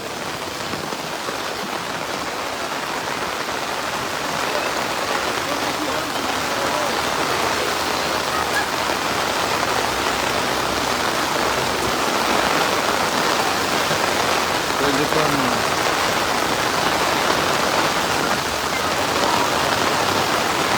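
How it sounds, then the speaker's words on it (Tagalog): Heavy rain pours steadily on Commonwealth Avenue, Quezon City, during flooding, a dense, constant hiss of drops hitting surfaces with no pauses. "lakas ng ulan."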